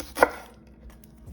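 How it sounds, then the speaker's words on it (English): A single sharp knife chop slices through the end of a pineapple on a cutting board, one crisp close thud followed by near silence. "Cut off the bottom, cut off the top, and then simply peel"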